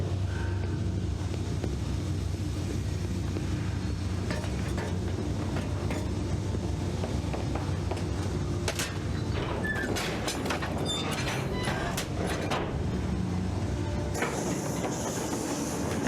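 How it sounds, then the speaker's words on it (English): A train rolls across the map in the Captain America: Super Soldier video game, a continuous rumbling clatter of wheels and carriages with sharp metallic clanks and bursts mixed in. "Now we can take our train across the map"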